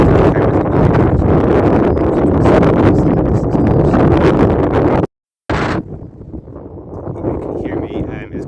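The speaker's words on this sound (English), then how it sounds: "Hope you can hear me, it's quite windy up here." Strong wind on a hilltop buffets the microphone in a loud, continuous roar, breaks off for a moment, then returns as a softer gusty rush.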